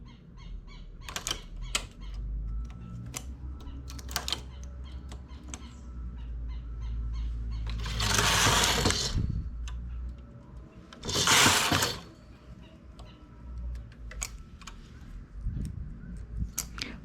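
Knitting machine making a medium buttonhole: irregular mechanical clicks and ticks, two loud sweeping whooshes of the carriage, then more scattered clacks close by.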